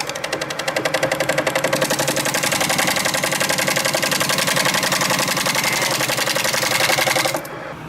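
A wood lathe turns end grain in several passes as the cutting tool is braced against the body, making a steady, loud, rapidly pulsing whir and chatter that runs continuously, then cuts off near the end.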